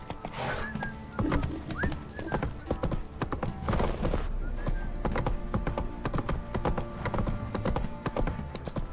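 Horse hooves galloping in The Witcher 3, a fast steady clip-clop running through the whole stretch with a brief whinny near the start, mixed over game ambience and music.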